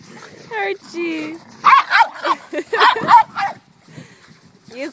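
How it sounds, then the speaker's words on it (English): A dog barks in short, excited bursts on an outdoor walk, close and fairly loud, mixed with a person's voice talking and praising over and between the barks. "You sound vicious, Archie."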